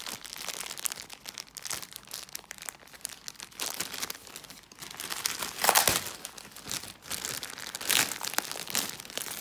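Plastic packaging of an Incase Compact Sleeve for a MacBook Pro 15" being opened, close and crisp irregular crinkling and crumpling that keeps coming in bursts, louder toward the end.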